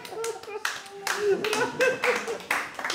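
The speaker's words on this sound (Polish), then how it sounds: "Dziękuję za oklaski" An audience in a talk or performance setting breaks into scattered hand clapping, a loose run of sharp claps at moderate volume, with voices faintly mixed in.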